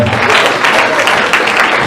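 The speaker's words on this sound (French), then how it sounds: "On continue à applaudir couramment" Loud, dense applause from a church congregation at a Pentecostal service, sustained clapping filling the room without a break.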